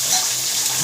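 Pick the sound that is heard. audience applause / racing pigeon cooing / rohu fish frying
rohu fish frying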